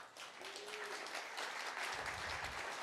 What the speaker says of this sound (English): So round of applause for Microsoft.